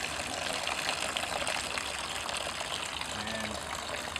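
Water rushes steadily from a garden hose while its flow is turned down, a broad continuous gushing hiss, moderately loud and unbroken throughout, with no voices over it.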